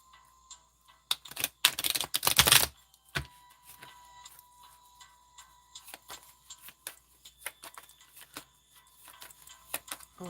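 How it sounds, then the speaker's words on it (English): Tarot cards shuffled by hand, with a dense riffling burst early on, then scattered light taps and clicks as the deck is handled close up, with no talking. "Let me shuffle here, Spoonie."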